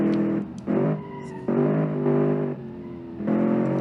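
A rear-engined V8 hatchback in a racing game brakes from 100, the engine dropping and surging in pitch as it slows and picks back up, loud and close, with no voices.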